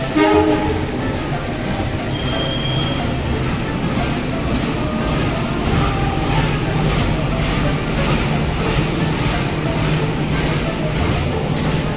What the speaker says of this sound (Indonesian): masuk kereta api Bangunkarta dari arah Pasar Senen ke arah Jombang